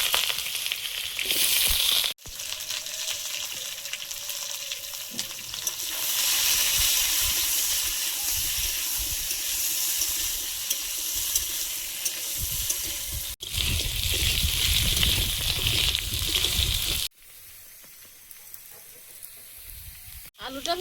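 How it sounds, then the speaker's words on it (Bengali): Potatoes frying in oil, a loud continuous sizzle with stirring scrapes, interrupted by abrupt cuts and a quieter stretch near the end. "আলুটা ভেজে নিয়েছি,"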